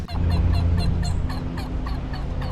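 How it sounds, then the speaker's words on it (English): Several large turkeys gobble in a series of loud, repeated bursts close by, each call rising and falling in quick succession over a low background hum. "Those are big turkeys."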